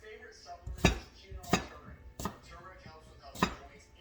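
Potatoes being cut into equal pieces for soup with four separate, sharp knife chops on a cutting board, spaced unevenly and fairly quiet.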